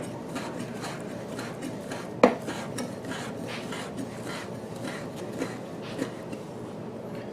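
A knife slices two strips of bacon into small pieces, giving a series of soft scraping strokes with one sharp knock near the start, close by and fairly quiet, with no talking.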